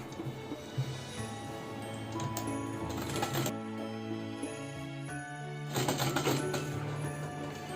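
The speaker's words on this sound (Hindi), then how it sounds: "तो ऐसे ही एक सिलाई हम नीचे कर देंगे" Rapid, close mechanical clatter of a sewing machine stitching the folded-down hem of a summer top's sleeve, running steadily with brief slowdowns and surges, no talk over it.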